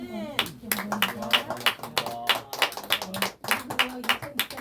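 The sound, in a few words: congregation clapping in welcome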